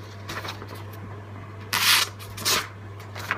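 A sharpened United Cutlery Sub-commander neck knife slices through material in a cut test, two or three quick crisp swishing cuts over a low steady hum.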